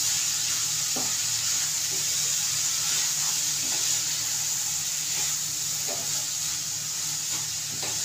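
Sprouted matki (moth beans) sauté in oil in a pan, a loud, continuous sizzle with intermittent stirring scrapes and taps close by, no one speaking.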